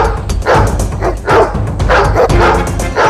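Hunting dogs in a 3D animated children's cartoon bark in a rapid series of loud, close yips and woofs, with no talking over them.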